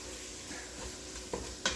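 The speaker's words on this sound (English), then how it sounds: "You want to stir that up." Cheeseburger soup ingredients get stirred in a pot, a soft, quiet simmering hiss broken by a couple of brief spoon knocks near the end.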